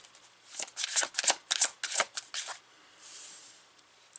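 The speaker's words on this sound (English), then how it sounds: "So I'm going to pull some tarot cards here." Tarot cards shuffled by hand at close range: a string of crisp riffling bursts, then a softer sliding shuffle, quiet and alone.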